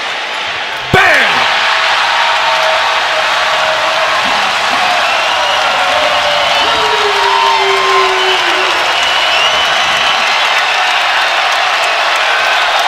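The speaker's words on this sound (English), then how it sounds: "This crowd into it right there." A college basketball arena crowd roars loudly and continuously at an Oregon versus USC game, a dense sustained cheer after a sharp slam near the start, with a whistle briefly audible through the noise.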